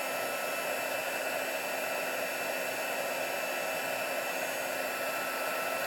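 Steady, loud whooshing hiss of a hot-air embossing gun blowing continuously up close, unchanging throughout.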